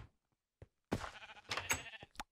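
Sheep in Minecraft bleat in a quick series of short, fairly close calls after one brief early bleat, with the last few blurring together.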